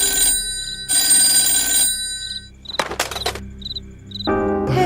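A telephone rings in a house at night, loud and near, in long bursts broken by short gaps, with crickets chirping softly in the background.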